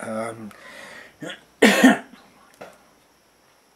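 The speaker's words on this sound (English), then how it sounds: "I have got a little bit of a cough on at the moment" A single harsh cough bursts out after a voice trails off, followed by a softer breathy sound, then quiet.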